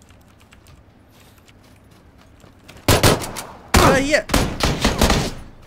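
In PUBG, quiet ambience suddenly breaks into two loud, close gunshot bursts, followed by a run of further sharp shots, with a voice swearing amid the firing.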